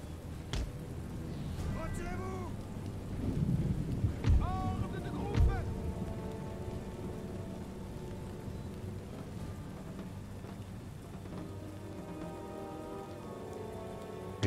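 Rain patters steadily on surfaces during a rainy battle in the video game Total War: Napoleon, a soft continuous wash with a couple of brief low booms as someone talks over it.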